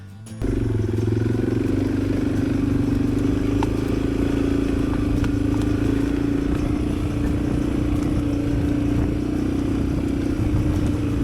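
Suzuki DR 650 dual-sport motorcycles churn through slick, greasy mud in British Columbia's rugged Chilcotin backcountry, with a steady, close engine drone and rumbling low-gear labor running continuously beneath faint clatter.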